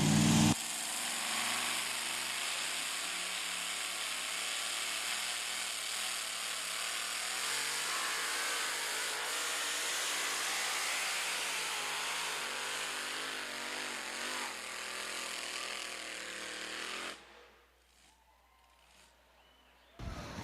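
A tractor-pulling engine at a county fair pull roars steadily under heavy load for a long stretch, its pitch shifting slightly as the revs sag, then cuts off abruptly to near quiet.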